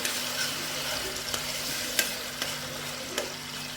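Ginger garlic paste sautés in oil for a fish curry, a constant bright sizzle punctuated by a few distinct clicks and scrapes from stirring.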